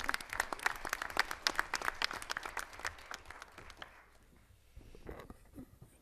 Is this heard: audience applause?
yes